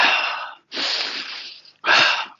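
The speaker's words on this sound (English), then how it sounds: "you sit here and gasp through your mouth" Three loud, close, breathy gasps drawn through the mouth by a man catching his breath after an all-out sprint, each a rasping rush of air separated by short pauses.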